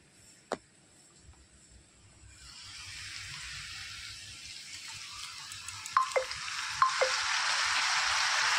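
Spice paste for a gathi kochu (taro) curry hits a pan and swells into a rising, hissing sizzle, with a few light utensil clinks near the end and no speech.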